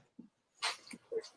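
A dog whimpers and yips in short, soft bursts, with brief breathy whines close by in a quiet room.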